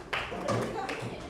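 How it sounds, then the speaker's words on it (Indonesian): A classroom of students claps for a group about to present in a biology lesson. The dense, broadband patter runs steadily through the moment, mixed with some voices. "Tepuk tangan."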